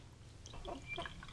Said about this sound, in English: I'm pouring a drink